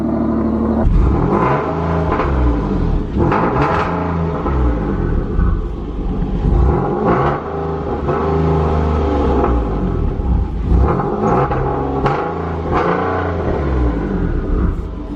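A single-turbo Nissan 370Z engine with no exhaust leak revs repeatedly, rising and falling in loud, rumbling bursts with a steady idle between, close by and with no voices.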